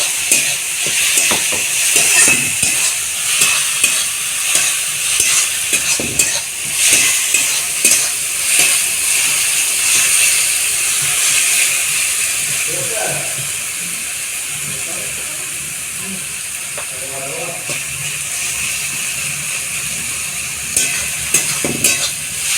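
Ginger and garlic fry in a pan for a village-style mutton curry, a steady hiss broken by repeated scraping stirs of a spatula, close and fairly loud, with little talk.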